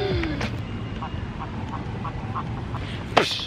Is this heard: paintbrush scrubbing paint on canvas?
no